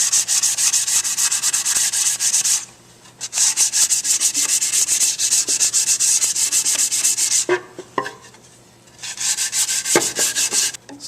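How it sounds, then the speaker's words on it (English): Sanding a wooden splay-legged table, a loud, continuous abrasive rasp in long strokes with two short pauses between passes and no talking. "sometimes by hand is a little easier than with the random orbit sanders"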